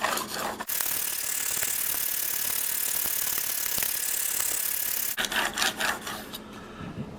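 A Swacker 252 broadhead is stroked against a 2500 grit diamond plate, giving a continuous bright rasping scrape that stops abruptly, followed by a few short, uneven rubbing strokes.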